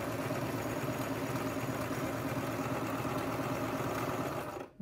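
Sewing machine stitching a fabric mask, a steady mechanical whir and rapid needle hum running continuously, fairly quiet, stopping abruptly at the very end.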